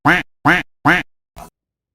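A duck quacks three times in a loud, evenly spaced series, then gives a shorter, fainter fourth quack before silence.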